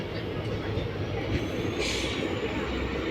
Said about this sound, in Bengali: আর ট্রেন আমাদের ঢুকছে নাগরাকাটা, নেক্সট স্টেশন চালসায় নামবো।